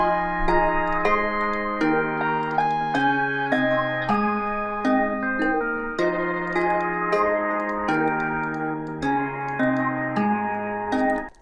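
A layered synth melody of bright, bell-like stepped notes repeats in a steady pattern, with echoing tails trailing each note and no voices.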